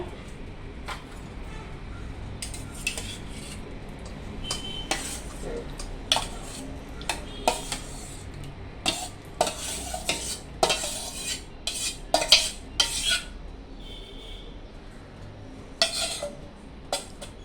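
Yogurt is scooped and scraped with a spoon onto a cotton cloth laid over a sieve, giving irregular clinks and soft scraping knocks against a kitchen hum, close and moderately loud.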